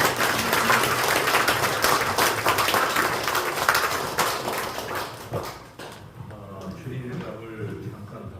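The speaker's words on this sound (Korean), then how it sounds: "세 분 교수님께 다시 한번 박수를" Audience at a Korean Christian forum applauds three professors, a dense clapping burst that runs loud for several seconds then fades as a voice comes in.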